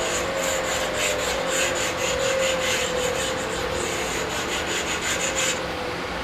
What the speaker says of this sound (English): just to pull these burred edges off on this cast or anything